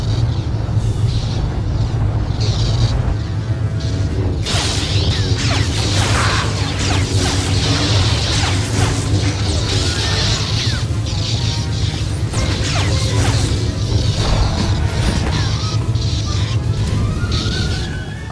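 A flamethrower roars in a Star Wars game, engulfing an enemy in a continuous loud rushing blast over a rumbling low drone, with scattered crashes and impacts mixed in throughout.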